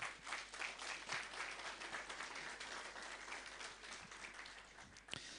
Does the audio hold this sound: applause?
yes